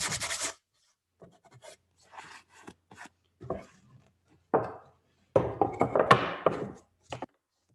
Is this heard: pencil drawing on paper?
yes